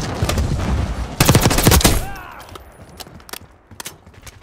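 Bursts of automatic gunfire in Call of Duty Black Ops 6, a loud dense volley early on, then thinning to scattered distant shots and ricochet-like pings.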